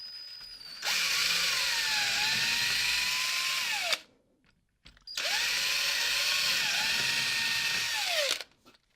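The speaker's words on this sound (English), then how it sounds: "You take your cordless drill with your drill bit." A cordless drill with a drill bit bores holes into a door frame in two long, whining bursts, the motor pitch sagging as the bit bites and rising at the end, with a short pause between.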